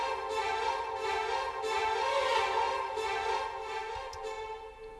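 Layered orchestral strings play fast runs together with piccolo, flute and clarinet runs, giving a dense, sustained, continuous wash of rapid notes with soft accents.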